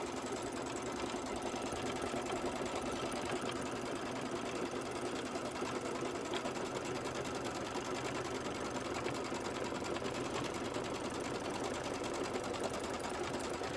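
A sewing machine runs steadily on an embroidered candy corn quilt design stitched over muslin, with a continuous fast mechanical whir and rhythmic needle chatter that holds at an even, close level throughout with no talk.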